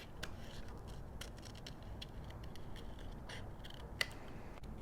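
Soft, repeated snips and crisp paper rustles at close range, with one sharper click near the end, over a quiet background hiss.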